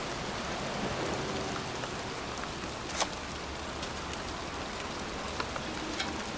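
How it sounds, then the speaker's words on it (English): Rain falls steadily in the video game Heavy Rain, a continuous hiss of drops on surfaces with a few sharper splashes standing out, and no voices over it. "It's cold. It's raining."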